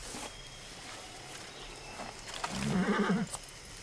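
In the video game Far Cry 6 a horse lets out a short, clear whinny near the end, rising above soft outdoor ambience and faint hoof movement.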